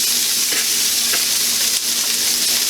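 Onions sizzle loudly in a hot pan, a dense continuous crackling hiss with a couple of soft stirring taps, no talk.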